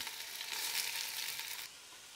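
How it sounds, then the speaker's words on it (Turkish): A close, steady sizzle of onions frying in hot oil, crackling continuously before easing to a quieter hiss near the end. "Yağımız ısındı. Artık soğanları içerisine alıyorum."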